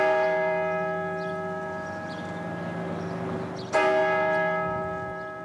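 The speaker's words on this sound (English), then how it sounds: "for the bell to call people to worship" A church bell in the Sacred Heart tower in Davenport rings with long, resonant tones decaying slowly, then a fresh strike rings out loudly and hums on.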